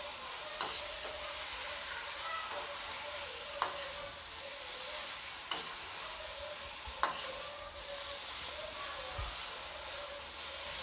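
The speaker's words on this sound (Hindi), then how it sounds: "अब मैं सब्ज़ी को अच्छी तरीके से चला दूँगी।" Okra bhindi do pyaza stirred in a pan: a steady, gentle sizzle runs throughout, broken every couple of seconds by a spoon scraping against the metal.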